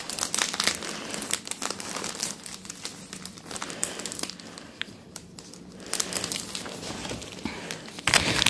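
Plastic packaging crinkles and rustles up close as items are unboxed, in continuous irregular bursts with sharper crackles near the end.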